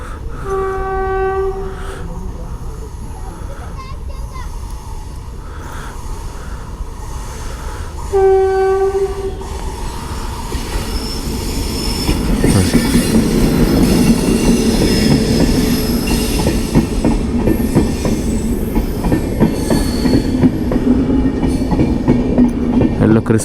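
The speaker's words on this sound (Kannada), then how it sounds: "ಸೊ ಈ ಟ್ರೈನ್ ಕೂಡ ಹೋಯಿತು" A train rolls along a railway track near an unfinished bridge, opening with repeated blasts of its horn, then a loud, growing rumble and rhythmic clatter of wagon wheels as it passes close by.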